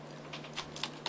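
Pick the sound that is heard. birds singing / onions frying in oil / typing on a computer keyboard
typing on a computer keyboard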